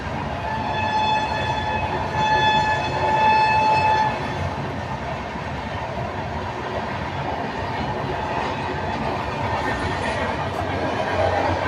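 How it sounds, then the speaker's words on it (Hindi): A train rumbles steadily past nearby for the whole stretch, with a sustained horn tone in the first few seconds and a continuous rolling clatter of wheels on rails, with no voices. "ट्रेन को जाने दो, तो कुछ नहीं बोलता हूँ"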